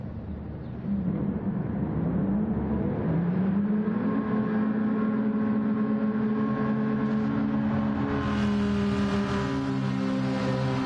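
Race car engines in an online racing video game, a steady loud engine drone that rises in pitch as the cars rev and accelerate, continuous and close with no talking.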